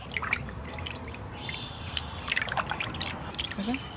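Pieces of rohu fish are rinsed with cold water in a kitchen, with steady trickling, dripping and small splashes of handled water up close and continuous throughout.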